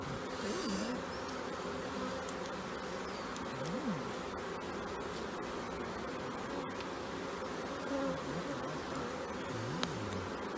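A steady drone of many bees buzzing close by, with individual insects rising and falling in pitch as they fly past.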